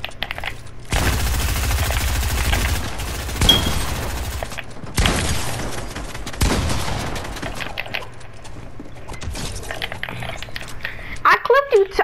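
Video game gunfire rattles in long, loud automatic bursts with brief pauses between them, while people talk over the shooting.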